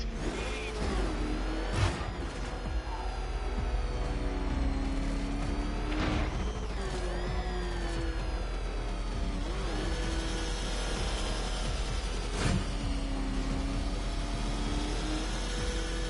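A car engine revs and accelerates in a Batman video game, a steady loud drone with rising and falling pitch sweeps and occasional whooshes, continuous throughout with no talking.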